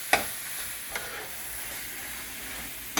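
Onions and garlic sizzle in a hot pan for beef stroganoff, a steady close frying hiss broken by a few sharp clinks of the stirring spoon against the pan, with no talk.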